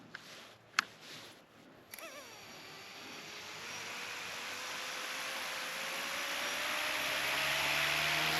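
An RC helicopter motor gives a few sharp clicks, then spins up into a whine that climbs steadily in pitch and grows louder as it nears takeoff speed, with no voices over it.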